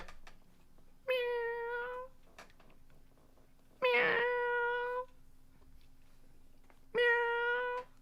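A cat sticker sound effect on a live stream plays three distinct meows, each about a second long, spaced evenly across the stretch and fairly loud against a quiet background hum.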